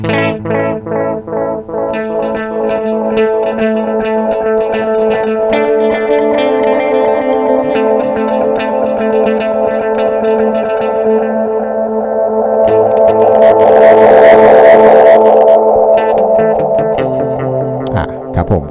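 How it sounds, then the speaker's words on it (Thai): Electric guitar played through an Electro-Harmonix Tone Tattoo analog delay, with a run of picked notes that blur into a loud, dense wash of repeats that build, swell and slowly fade, without any talk. "เสียงจะค่อยๆวองขึ้นเรื่อยๆนะครับตามสไตล์อนาล็อกดีเลย์"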